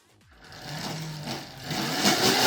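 An electric drift kart's drivetrain whirs with a high, buzzing mechanical rattle from an off-center chain sprocket, rising steadily in loudness up close without any talk.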